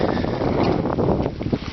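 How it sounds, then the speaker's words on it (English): Strong gusting wind buffeting a storage tent, a loud continuous rushing roar with flapping surges and fabric rumble, close to the microphone, with no talking. "The wind just ripped up and disconnected the bottom stake over on this side."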